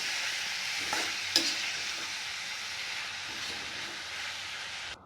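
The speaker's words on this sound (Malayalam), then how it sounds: "ഇത് നമുക്ക് നന്നായിട്ട് ഇളക്കി കൊടുക്കാം" Prawn curry stirred in a pan, with a steady sizzle and one sharp scrape or knock near the start, continuing evenly until it cuts off just before the end.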